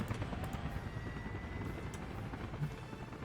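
A helicopter in the city-building game Workers & Resources, set in 1930s Poland: a low, continuous rotor rumble with a faint drone, steady and fairly quiet, without talk.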